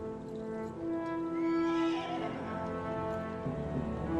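A horse whinnies in the video game Kingdom Come: Deliverance II over a steady background of game music, its drawn-out neigh rising and falling for a couple of seconds.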